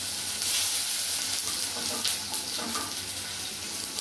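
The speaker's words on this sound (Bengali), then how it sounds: "এগুলো একটু ভেজে নেবো।" Chopped tomato and ginger paste sizzling and frying in hot oil in a pan, a steady close crackling hiss with faint stirring, no voices.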